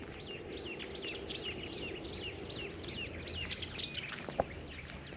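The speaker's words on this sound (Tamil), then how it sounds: "இங்கே இருக்கிற பறவைகளோட சத்தம் கேட்குறதுக்கு அவ்வளோ இனிமையாக இருக்குதுங்க" A steady chorus of repeated chirping bird calls, fairly close, continues over a low outdoor hum, with one sharp click near the end, at a hill viewpoint overlooking a dam near Varattupallam and Anthiyur, Tamil Nadu.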